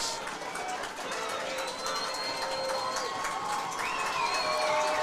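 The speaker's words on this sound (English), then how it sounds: "Defense enticing the crowd, and the crowd is responding." A high school football crowd at Northwest High in Wichita cheers and roars in the stands during a late defensive stand, with distant whistles and shouts rising over a constant crowd din.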